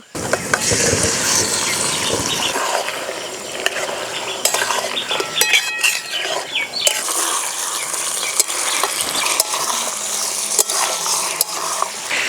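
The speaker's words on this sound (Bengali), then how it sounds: "মাংস দিয়ে একটু নাড়াচাড়া করে নিলাম," Spiced duck meat cooked with chui jhal is stirred in a hot pan: a loud continuous sizzle with repeated scraping and clinking of a utensil against the pan, no talking.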